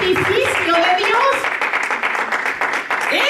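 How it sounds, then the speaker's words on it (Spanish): A church congregation claps in praise to the Lord during a sermon, a rapid crowd of claps filling the room steadily while voices call out loudly over the top. "¿Cuánto le dan un aplauso al Señor?"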